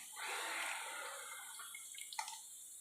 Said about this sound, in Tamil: இதை நம்ம ஒரு ஃபில்ட்ரு வச்சு நல்லா வடிகட்டிக்கிடுவோம்